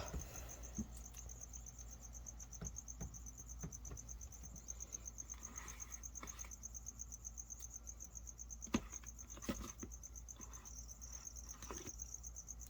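A cricket chirps in a rapid, steady high-pitched trill inside a reptile enclosure, persisting throughout alongside faint scattered taps and rustles, with no talking.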